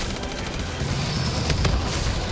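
Rapid gunfire and explosions in a custom Christmas map of Call of Duty Zombies, a dense continuous barrage of bursts and booms filling the short stretch at a loud, even level.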